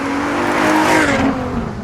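A Ferrari LaFerrari with a 950bhp engine accelerating hard and snapping through a gear change, giving a loud, sustained engine roar with a rising tone that dips briefly at the shift, close and without talk.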